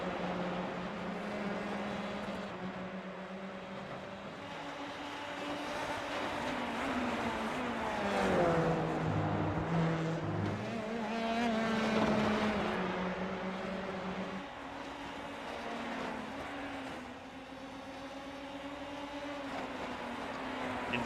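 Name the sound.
Formula 3 race car engines in a racing video game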